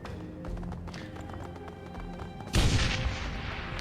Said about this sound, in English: The stillness of the Ares laboratory is suddenly rent by the unmistakable sound of an explosion.